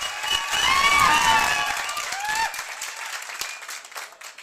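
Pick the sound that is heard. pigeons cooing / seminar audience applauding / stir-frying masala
seminar audience applauding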